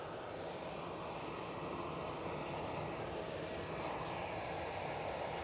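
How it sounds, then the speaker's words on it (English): Business jet on the taxiway at Edinburgh Airport, its engine noise a continuous broad rumble and roar heard from outside, steady and fairly loud throughout. "Looks like we might have a BizJet on the ramp, off the ramp, on the taxiway"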